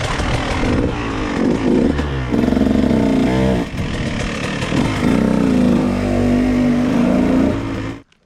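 A dirt bike engine revs hard and steadily through a wheelie, a loud close buzzing drone with pitch rising and falling over about eight seconds before cutting off abruptly at the end.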